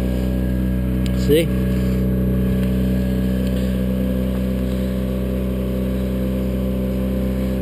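An outboard fishing boat motor with tiller steering drones loudly and steadily on the water, holding an even throttle throughout, while someone speaks briefly over the engine.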